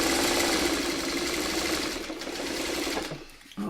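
Sewing machine stitching fabric passcode triangles, a loud continuous mechanical whir close by that slows briefly near the end before picking back up.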